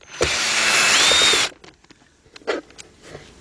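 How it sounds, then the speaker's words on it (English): A power screwdriver whirs in one sustained burst of about a second and a half, backing out a Phillips screw on a 2000 Isuzu Rodeo 3.2, followed by a few light clicks and taps. "Let's get those 2 screws out of there"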